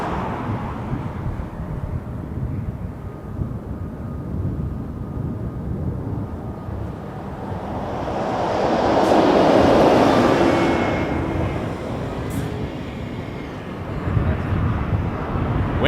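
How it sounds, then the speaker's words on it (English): An Air Canada Airbus A321 airliner lands at Toronto Pearson, arriving from LAX, its engine roar swelling to a broad peak midway and then easing off over steady background rumble, with wind noise present. "we got A321, Air Canada 782 coming in from LAX"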